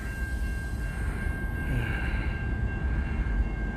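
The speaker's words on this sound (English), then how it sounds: "Cool train." A train rumbles past steadily nearby, railcars producing a continuous low roar with a faint sustained whine above it, no voices heard.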